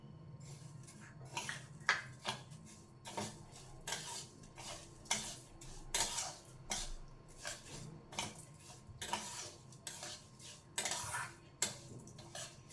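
Cracked wheat (fada) being roasted and stirred in ghee over low heat in a pan, a steady run of light metallic scraping and clinking from the spoon against the vessel, repeating every second or so, close up with no talk.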